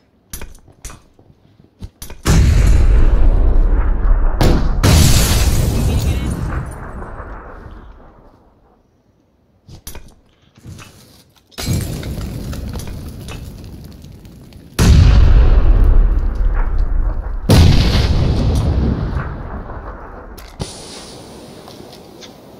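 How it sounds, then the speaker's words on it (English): Several grenades detonate in a multiplayer shooter video game, each a loud, heavy boom with a long rumbling decay; three or four big blasts are spread across the span, separated by quieter gaps and small clatters. "I threw a grenade."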